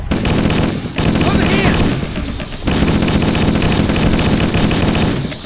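Rapid bursts from a plasma rifle in the video game Halo CE, a dense stream of energy shots cut by two brief pauses, loud and close within the game's noise.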